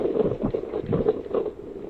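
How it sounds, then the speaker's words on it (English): Strong hurricane wind from Hurricane Hanna buffets the microphone at the Corpus Christi bayfront, a loud, gusting rumble with uneven surges throughout. "Yeah, it is quite windy down here."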